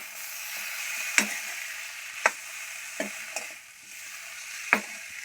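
A spoon scraping through cluster fig curry in a pan, five sharp distinct knocks against the metal spaced unevenly over a steady soft sizzle, close and clear.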